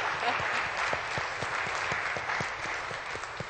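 An audience at a vegetarian conference in the Middle East claps steadily throughout, a dense wash of many hands with a few sharper individual claps standing out, with no talking.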